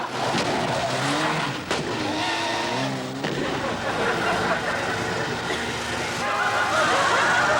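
A car's brakes fail and it skids, a loud sustained engine roar with screeching, tonal tyre squeal running for several seconds, steady and close throughout.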